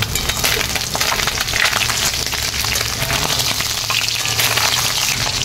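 Mourala fish fry in mustard oil in a wok as they are turned over, a dense crackling sizzle with spattering pops that stays loud and close throughout.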